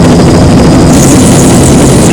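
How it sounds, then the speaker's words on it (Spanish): A helicopter hovers and lifts a cargo load at sea near a ship, a loud continuous rotor and engine roar filling the clip without pause. "un compañero engancha la carga al helicóptero y nos elevamos lentamente"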